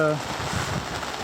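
Steady hiss of rain with gusty wind noise on the microphone, heard aboard a boat with no engine running, continuous and moderately loud, after a brief tonal sound at the start.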